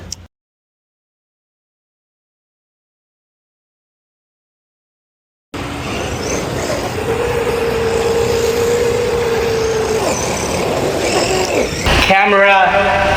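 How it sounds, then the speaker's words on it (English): An Arrma Quake RC car runs at full throttle during a speed test. After several seconds of silence, a loud, steady, high-pitched electric motor and drivetrain whine starts and holds close by, with a sharp shift in pitch near the end. "I got it on full throttle there."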